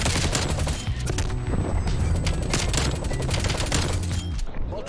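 Dense, continuous assault rifle fire in the Call of Duty Cold War game, loud and rapid with overlapping shots and explosions across the whole stretch and no voices.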